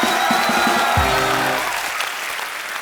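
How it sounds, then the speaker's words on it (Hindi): A studio audience applauds on a Hindi TV comedy show as a guest takes her seat, a loud, full burst of clapping with a short low tonal sound partway through, then tailing off toward the end. "जोरदार तालियां होनी चाहिए यार"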